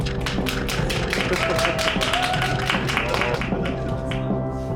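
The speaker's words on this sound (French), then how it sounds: "Je m'auto-applaudis." A single man claps for himself, a fast, steady run of sharp hand claps close to the microphone over a few seconds, easing off near the end with nothing else heard.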